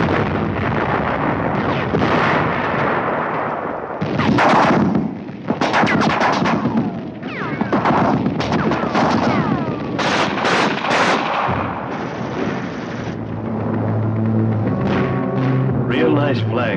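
In WW2 combat at Aachen, bursts of machine-gun fire and heavy artillery blasts arrive in irregular volleys, some near and loud, with someone narrating over parts of it.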